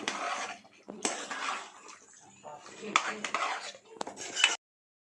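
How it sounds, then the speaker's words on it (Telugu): A spoon scrapes and clanks against a pan while chicken is mixed with chilli powder for gongura chicken, in several separate bursts of stirring with brief pauses between, close and moderately loud. "కారం వేసి దీన్ని ఇప్పుడు మళ్ళీ మనం మంచిగా మిక్స్ చేసుకున్నాము"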